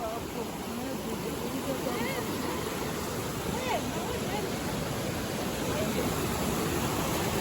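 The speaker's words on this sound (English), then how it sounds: "Odisha Kambidari waterfall." Kambidari waterfall in Odisha, India, a steady dense roar of falling water that holds evenly from start to finish, with faint voices briefly audible under it.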